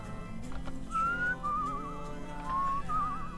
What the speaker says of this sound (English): also making it so that you have to whistle to walk faster